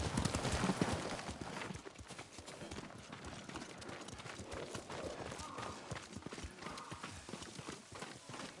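Horse hooves clip-clopping in Ghost of Tsushima, a steady rhythmic run of hoofbeats under soft ambient sound, fairly faint, with a possible whinny early on.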